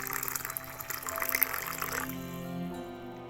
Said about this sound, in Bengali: আমি এখানে একদম ফুটন্ত গরম জল দিয়ে দেবো